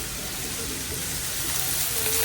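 Onion frying in a pan for chole bhature gives a close, continuous sizzling hiss. It holds steady for the whole moment with no breaks.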